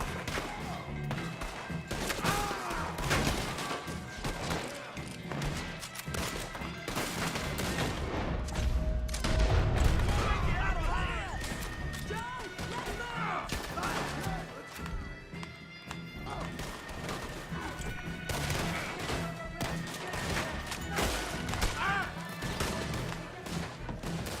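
Gunshots in Red Dead Redemption 2 mixed into a busy scene with horse hooves clopping and whinnies, shots cracking intermittently amid continuous commotion and clatter.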